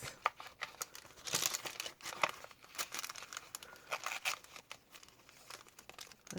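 Paper pages of a handmade vintage junk journal being handled and flipped, giving repeated soft crinkling rustles and brief crisp flicks, close and fairly quiet, with no talking.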